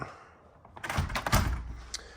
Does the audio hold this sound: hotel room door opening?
yes